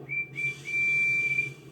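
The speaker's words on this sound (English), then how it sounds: "He whistled hello to Arry and Bert." A steam engine's whistle sounds as a friendly greeting, a clear steady high tone in a few bursts: a short toot, a brief break, then a longer held note, loud and alone.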